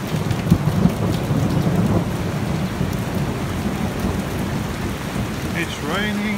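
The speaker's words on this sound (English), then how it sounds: "It's raining and thunder, so time for tea." Steady rain with rolling thunder during a wet cycling day on a road in Monastery Valley near Guzelyurt, a continuous hiss with deep rumbles, loudest early on.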